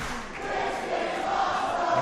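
A wrestling crowd at an RWA Aggression event roars and cheers in a steady, dense wash of many voices, loud and continuous throughout.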